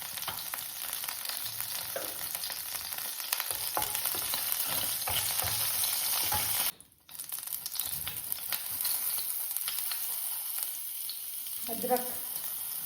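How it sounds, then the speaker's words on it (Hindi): Cumin seeds sizzling in hot oil, a loud continuous crackling hiss that drops out briefly midway and then resumes just as strong, with faint stirring underneath. "अब हम इसमें डालेंगे जीरा, इतना जीरा डालेंगे"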